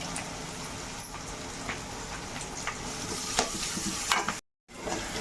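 Onion and garlic fry in a pan with asafoetida powder, giving a steady close sizzle with small crackles and occasional stirring scrapes, a brief dropout near the end.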